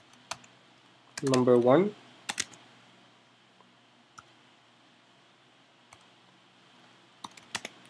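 Scattered, crisp keystrokes on a computer keyboard while C++ code is typed, a few isolated clicks spread across the stretch, with a short burst of a man's speech near the start.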